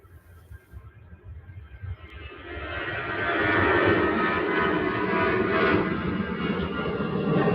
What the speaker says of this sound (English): Let's go and have a look at this Orange Airways flight.